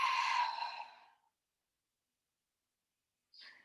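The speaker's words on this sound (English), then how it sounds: "Exhale, let it go." A long, breathy exhale during a yoga session, loud at first and fading out over about a second. After a pause comes a brief, faint breathy sound.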